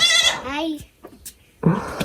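Goats bleat at a village house, with one close, wavering bleat followed by other short animal calls and farmyard sounds nearby.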